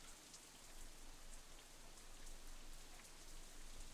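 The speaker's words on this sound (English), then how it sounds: "Raindrops hitting the umbrella make a distinctive sound, playing the staccato melody of rainfall for nobody in particular." Steady rain patters on an umbrella during a walk in a rainy visual novel scene, a soft, even hiss of drops that goes on the whole time with no voices.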